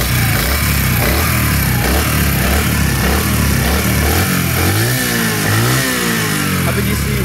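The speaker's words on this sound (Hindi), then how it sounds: "इसके जो इंजन की आवाज़ जो जैसे कोई टैपर ढीले हो जाते हैं, कुछ आवाज़ करने लग जाता है" A 2024 Honda CD 70 motorcycle engine runs close by, idling with a steady low throb and rising briefly in pitch as the throttle is blipped, loud and continuous with no talk over it.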